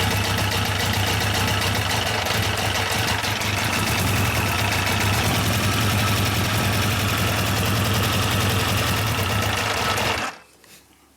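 A Yamaha 1200 FJ motorcycle engine with freshly synced carburetors runs close and loud, a dense steady mechanical clatter as it barely holds idle, then cuts off abruptly near the end.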